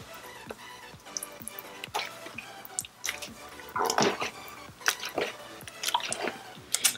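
Alginate powder being stirred into water for a life-cast mold, giving wet squishing and dripping sounds in irregular bursts, close and fairly quiet, with no one speaking.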